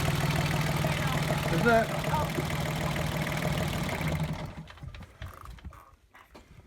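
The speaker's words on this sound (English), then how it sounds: "you have a most wondrous, wonderful engine. Quiet, not noisy." A serviced marine diesel engine idles steadily and quietly with a low, even hum under brief talk, then is switched off partway through, leaving near silence and faint handling noises.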